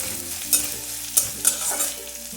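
Garlic, ginger and green chilli sizzling gently in a pan over low heat, with a few distinct stirring scrapes standing out above the soft, steady frying noise.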